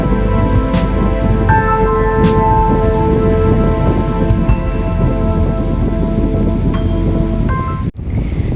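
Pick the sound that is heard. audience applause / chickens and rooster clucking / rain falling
rain falling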